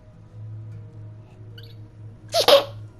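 A single sharp sneeze bursts out close by after a quiet stretch with a low background hum.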